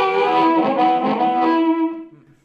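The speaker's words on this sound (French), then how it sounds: "c'est un son de Chicago Blues" Hohner harmonica amplified through a microphone with a gritty Chicago blues tone, a loud distorted sustained chord wail that holds then fades out, alone.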